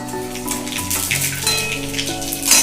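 Panch phoron spice mix crackling in hot oil in a kadai for a vegetarian mixed-vegetable curry, a close, fairly loud patter of pops and sizzle with faint background tones.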